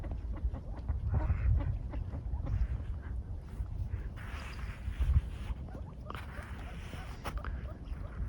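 Ducks on the water, scattered soft quacks and low calls from a small group, close and fairly quiet over gentle background wash, with occasional louder bursts.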